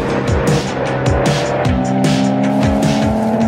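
Five-cylinder engines of an Audi TT RS and RS3 sedan rev hard while driving, loud and close, with repeated rising pitch sweeps through gear changes.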